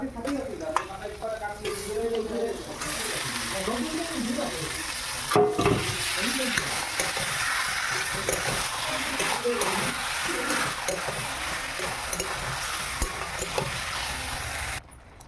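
Duck meat sizzles and fries in a pan seasoned with salt and chili powder, with steady stirring and scraping throughout, close and fairly loud, along with occasional clatter of the utensil.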